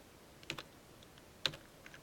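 Typing on a computer keyboard: two quiet, close clusters of clicky keystrokes about a second apart, with faint taps in between against a low room hum.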